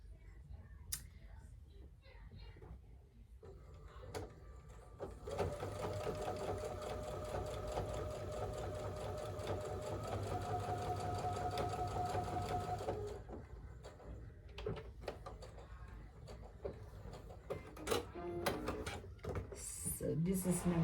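Sewing machine stitching quilt blocks for a Stairway to Heaven quilt, running in a steady loud whir for about eight seconds with quieter handling clicks and rustles before and after.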